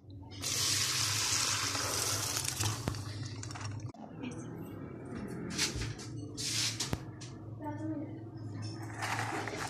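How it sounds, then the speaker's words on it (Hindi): Water is drained off cooked mash lentils (urad dal) in a home kitchen, a steady rushing pour that fades after a few seconds, followed by clinks, splashes and handling noises at close range. "अब मैं इसका पानी जो है वो निकाल लेती हूँ।"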